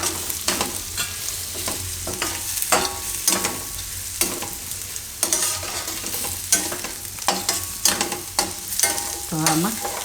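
A spatula mixes besan bhurji with red chili powder and salt in a pan, producing a series of rhythmic scraping strokes over a soft frying hiss, close and moderately loud, with no voices.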